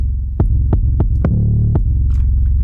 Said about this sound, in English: I can hold this 808 forever if I just keep holding the notes